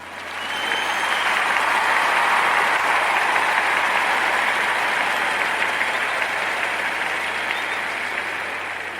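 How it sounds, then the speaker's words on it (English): An audience bursts into applause that swells quickly and holds as a dense, steady wash of clapping before slowly easing off near the end. "we want to give them a round of applause"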